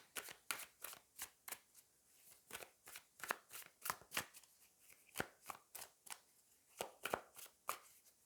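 Tarot cards being shuffled and drawn, a quick series of crisp riffling snaps in an irregular rhythm, close and fairly quiet, with no voices.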